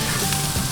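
Vegetables seasoned with salt and pepper hiss loudly in a hot pan, a dense, close, continuous sizzle over a brief moment.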